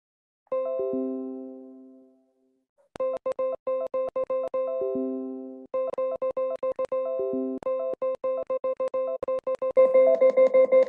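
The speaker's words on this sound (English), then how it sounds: "That's the sound of the answers on my Padlet." Padlet notification chimes for incoming answers during an online teaching webinar, a string of bright electronic tones ringing out in quick repeated bursts, some overlapping, with no talk over them.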